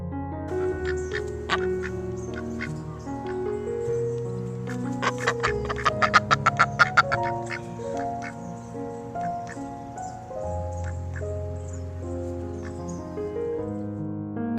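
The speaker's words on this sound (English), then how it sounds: "Duck." A duck quacks over soft background music, with scattered calls early on and then a quick run of sharp, repeated quacks in the middle before the calls thin out again.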